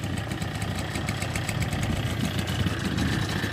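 Suzuki Address V100 scooter engine idling steadily at close range, a continuous even hum with no talk over it.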